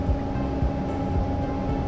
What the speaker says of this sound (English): It's the water pipes. They're just waking up after being so long out of use.